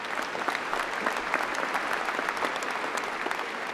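Dense, continuous applause from a large graduation audience for School of Medicine graduates, many hands clapping evenly at moderate volume with no other sound.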